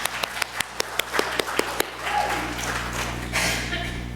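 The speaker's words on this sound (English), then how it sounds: "Round of applause." About ten sharp, evenly spaced claps ring out at the start, followed by softer, scattered audience applause and murmuring.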